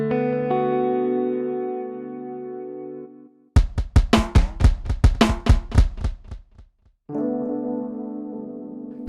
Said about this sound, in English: Standard echo.